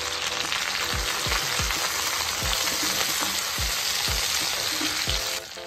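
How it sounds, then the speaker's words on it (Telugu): Onions frying in a pan for a village-style egg masala, with coriander leaves going in: a steady loud sizzle runs throughout, broken by regular low thumps of a spoon stirring against the pan. "ఉల్లిపాయలు వేగాయి, కొద్దిగా కొత్తిమీర వేసేసుకోవాలి"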